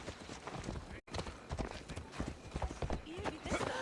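Horse hooves clip-clop in a steady walking rhythm in Assassin's Creed Odyssey, quiet and close, with voices talking over them.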